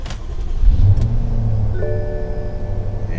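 A BMW X5 F15 starts up with a short cranking burst that settles into a smooth idle, while electronic dashboard chimes and tones sound over the engine.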